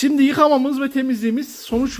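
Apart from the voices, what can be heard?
No distinct noise like a dog, phone or traffic.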